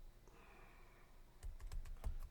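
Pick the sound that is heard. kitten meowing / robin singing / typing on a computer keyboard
typing on a computer keyboard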